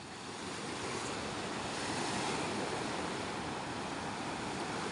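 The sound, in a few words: sea waves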